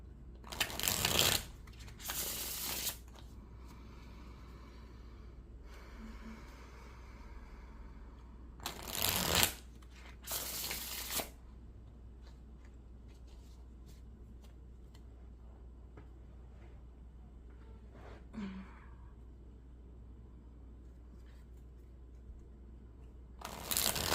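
Tarot cards are shuffled in several brisk bursts of riffling and snapping, close and crisp, separated by long quiet stretches with faint handling sounds.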